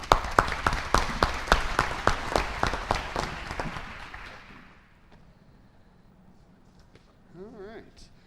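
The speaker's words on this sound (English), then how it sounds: "Please give him a big round of applause." Audience applause at a school board meeting, a steady burst of many hands clapping that fades out after about four seconds, leaving quiet room tone and a brief murmur of voices.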